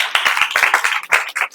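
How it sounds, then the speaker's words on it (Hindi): Students in a coaching class give a short burst of clapping, brisk and close with uneven hand claps over about a second and a half. "एक बार ताली बजाइए आप लोग"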